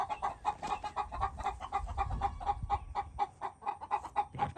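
Chickens clucking in rapid, busy bursts close by while two roosters are put together and sort out their pecking order, with scuffling thumps underneath.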